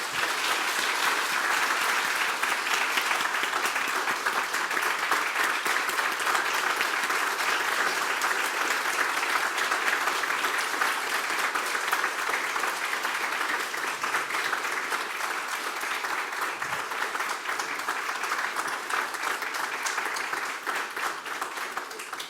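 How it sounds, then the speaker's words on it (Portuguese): At a solemn session in Botucatu awarding an honorary citizen title, the audience keeps up a long, even round of applause from many people, sustained without a break and easing slightly toward the end. "Peço a todos uma salva de palmas ao mais novo botucudo"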